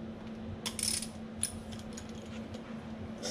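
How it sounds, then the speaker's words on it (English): A socket wrench ratchets on a bolt of a KitchenAid dishwasher wash motor, a few quick clicking bursts over a low steady hum, close and clear. "Now we should just be able to get a socket on there."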